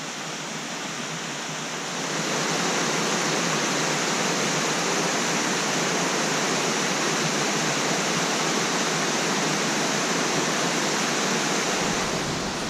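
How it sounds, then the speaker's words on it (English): A waterfall along the Foothills Trail pours in a steady, dense rush of white noise, swelling louder after a couple of seconds and holding evenly, with no voices. "would have missed this really cool waterfall"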